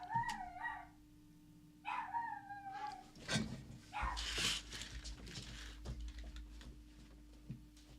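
A dog barks in short yelps, then gives drawn-out howls and whines, loud and near, with some rustling and a low hum in the background.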